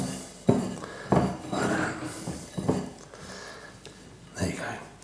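A lamb rub being mixed with olive oil in a bowl, several sharp knocks and scrapes of a utensil against the bowl at uneven intervals, close by, with soft speech-like sounds between strokes.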